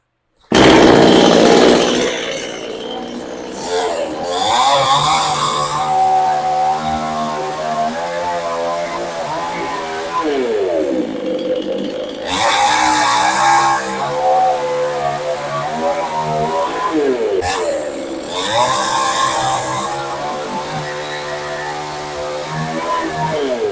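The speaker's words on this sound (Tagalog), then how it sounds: "i-demo po natin kung gaano po kalakas itong ating powerhouse petrol chainsaw" A loud Powerhouse 22 petrol chainsaw roars continuously, its engine pitch rising and falling as it bites into wood, with a few brief surges of full revving.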